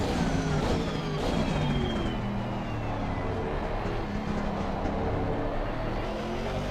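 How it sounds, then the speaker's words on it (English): A Ferrari race car engine in a racing video game drones loudly and steadily, shifting pitch slightly as it revs, close and continuous with no voices. "the Ferrari sounds horrible"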